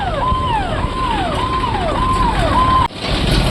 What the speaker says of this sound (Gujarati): એમ્બ્યુલન્સ આવી રહી છે પાછળથી